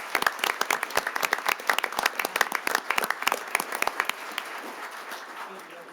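Audience at a Sterling Heights city council meeting applauding, a dense burst of many hands clapping that fades out over the final seconds, with a faint room hum underneath.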